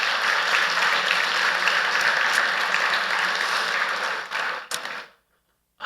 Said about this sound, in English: I think it's just worth giving them a round of applause